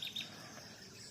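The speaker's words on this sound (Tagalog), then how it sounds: "Huni ng ibon ang maririnig mo mga idol." On a calm morning in a countryside province, two quick bird chirps sound at the start, faint and fairly distant above a quiet insect-like background.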